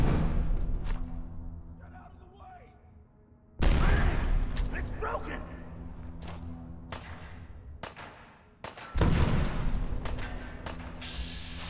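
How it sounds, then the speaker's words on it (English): Heavy grenade blasts in the post-apocalyptic game Fallout 4, two loud booming detonations a few seconds apart, each followed by rumbling decay and scattered thuds, with game voices talking faintly in between. "Three grenades left them all in pieces"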